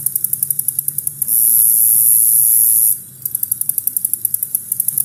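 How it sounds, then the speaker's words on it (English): A common meadow katydid sings in a weedy patch, alternating rapid high ticking pulses with a long continuous buzzing trill, close and clear over a faint low background. "Another sound you can hear in that weedy patch is the common meadow katydid."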